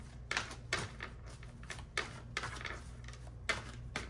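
Soft papery riffling and light tapping in short bursts, several repeated shuffles of tarot cards at close range with quiet pauses between.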